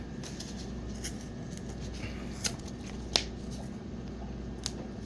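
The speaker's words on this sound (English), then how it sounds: "using Fisker scissors" Fiskars scissors cutting through a Dr. Scholl's puncture-resistant insole give a quiet, steady scratchy rasp with a few sharper snips standing out, close and otherwise free of talk.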